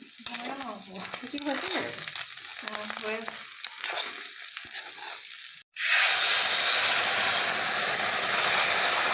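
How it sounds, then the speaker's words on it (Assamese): Chicken with sesame seeds sizzles and crackles in a pan with scraping stirs, then a sudden loud hiss erupts as water hits the hot pan and keeps bubbling. "এতিয়া ডাইৰেক্ট মই অলপ ভাজিয়ে পানী দি দিম"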